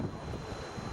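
Stormy wind blasting over an orchard of blossoming apricot trees during a cold snap, a steady broadband roar buffeting the microphone with gusty low rumbles, loud and continuous with no voices.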